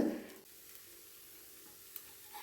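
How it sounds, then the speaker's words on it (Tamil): Dosa batter sizzles on a hot tawa, a brief louder burst at the start settling into a faint, steady hiss. "இப்போ தோசை ஊற்றி பார்த்துடலாம்"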